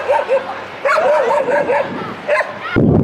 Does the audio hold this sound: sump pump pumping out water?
no